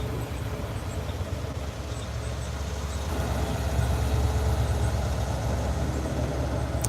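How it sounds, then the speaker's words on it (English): Supercharged Dodge Charger with a ProCharger idling at a dyno day shop, a steady deep engine rumble that grows slightly louder partway through, close and continuous. "Hear the ProCharger on that thing?"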